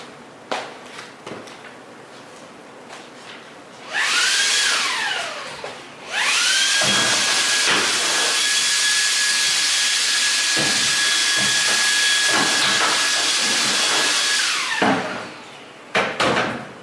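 A shop vacuum sucks up metal shavings left from power drilling on a flight simulator panel plate, a loud steady whine that starts, cuts briefly, then runs for about nine seconds before stopping, with footsteps and handling noise around it.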